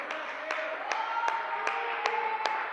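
A church congregation claps in praise. Sharp single claps land in a steady rhythm about twice a second, ringing over a sustained tonal backdrop.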